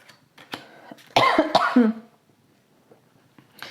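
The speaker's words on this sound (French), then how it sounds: "Excusez-moi, je tousse en ce moment." A single close, raspy cough with a short throat-clearing tail, then near silence.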